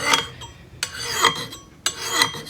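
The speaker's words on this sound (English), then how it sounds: "you can hear those burrs from filing on the other side" A hand file smoothing scratches on a steel axe head: three loud, close rasping strokes in a steady rhythm, each a gritty metallic scrape.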